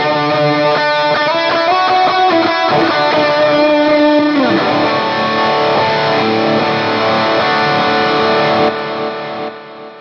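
Distorted electric guitar lead tone from a Line 6 Helix patch modelled on a guitarist's rig, with stereo delay trailing the notes; loud, sustained bends and runs play alone for about ten seconds before fading.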